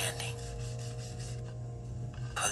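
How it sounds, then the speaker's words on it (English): Sandpaper rubbing back and forth over wood in a woodshop, a steady close rasping scrape that continues evenly and briefly eases before resuming. "Clump stops sanding"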